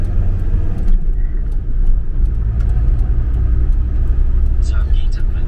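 A car drives along a road during a winter trip through flooding, with a steady loud engine and tyre rumble filling the interior and a few faint higher tones near the end.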